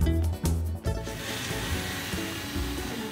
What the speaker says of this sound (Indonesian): bawang putih, bawang merah, dan kemiri langsung kita haluskan